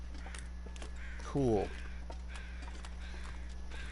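Crows in The Long Dark give a single short, harsh caw over a quiet ambient hum, and someone speaks briefly nearby.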